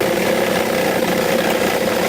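A Sawzall reciprocating saw cuts through the thick steel tank of a water heater, a loud, continuous, rattling buzz that holds steady and close without pause, with no talking.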